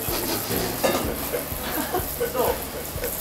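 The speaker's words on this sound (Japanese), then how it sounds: "全部入れて、これを炒めよ" Chopped ingredients stir-fried in a pan at home, spatula scraping and tapping the pan in a steady rhythm over a soft sizzle, with people talking nearby.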